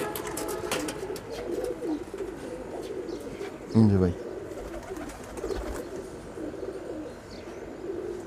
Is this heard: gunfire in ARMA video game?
no